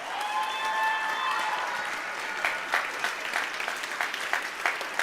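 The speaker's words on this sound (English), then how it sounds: "Can we give one more round of applause for our student speakers tonight?" Audience applause rings out at a school band's winter concert for student speakers, a dense, steady wash of many clapping hands that thins toward the end into scattered, sharper individual claps.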